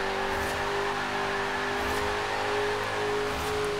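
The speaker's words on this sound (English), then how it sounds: "Wheel spin all the way." Car engine in Forza Horizon 4 held at high revs with wheel spin at a race start, a steady loud droning roar with a sustained tonal whine running unbroken throughout.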